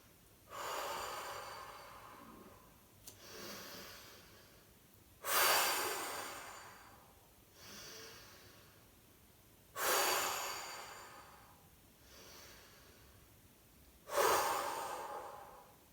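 Powerful breaths in a beginner-to-intermediate hatha flow yoga session: a slow rhythmic series of strong, forceful exhales alternating with softer inhales, close and alone with no talking.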